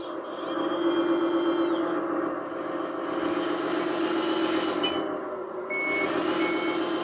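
A reverse beeper sounds on a 1/14 scale XDRC Liebherr 580 RC wheel loader fitted with a sound system, giving repeated beeps over a steady simulated engine hum with no talking.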